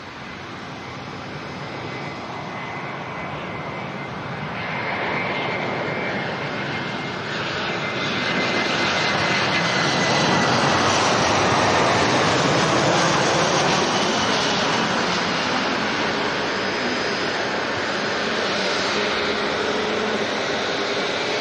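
Lufthansa Airbus A319 arriving from Frankfurt and touching down at Manchester Airport, a broad roaring jet engine rumble that swells louder midway and holds steady, continuous and fairly near with no talk.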